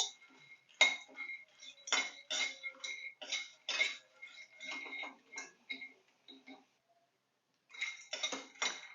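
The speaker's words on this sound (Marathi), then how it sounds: "मखाना देखील आपल्याला छान असा क्रंची होईपर्यंत भाजून घ्यायचा आहे" Makhana (fox nuts) dry-roasting in a kadai, stirred with a spatula, giving loud scraping rattles and clinks in irregular bursts, a brief pause, then a final flurry of clattering.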